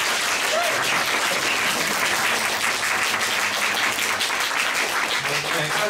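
A packed audience at a live concert debuting a new song breaks into loud, sustained applause, with dense clapping filling the hall steadily throughout.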